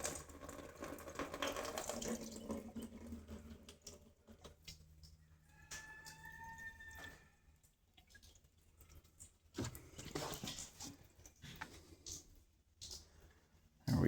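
Water rushes and trickles through the cooling system of a Versys-X 300 motorcycle during a coolant flush, a faint, uneven splashing and pouring with a few drips and quieter gaps.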